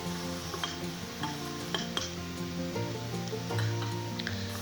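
Large, finely chopped onion sautéing gently in oil, a soft continuous sizzle with a few light utensil clinks against the pot and a low steady background hum.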